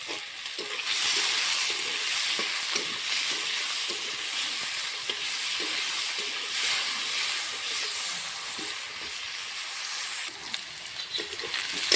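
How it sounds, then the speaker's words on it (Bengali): Potatoes fry lightly in a pan with a steady, soft sizzling hiss that runs throughout, with occasional faint stirring clicks and no talking. "আলুটা হালকা করে ভেজে নেব"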